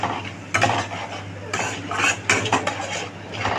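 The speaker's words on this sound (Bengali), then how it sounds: "ভালো করে একসাথে নাড়াচাড়া করে নেবো আমি।" A spoon scrapes and stirs steadily through spiced paneer curry with salt in a pan, close and clattering against the metal, with a faint sizzle and hum underneath.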